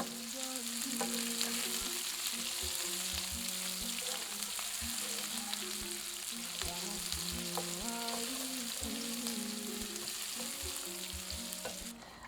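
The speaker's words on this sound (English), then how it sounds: "When that's hot enough, add in the onion and cook until brown." Onion frying with whole spices in hot oil in a pan, a continuous close sizzle with frequent scraping and clattering stir strokes throughout, no speech.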